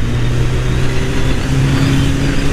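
A Suzuki Hayabusa motorcycle fitted with an Akrapovic exhaust idles and revs nearby, a loud, steady low engine drone with a throbbing exhaust note held throughout.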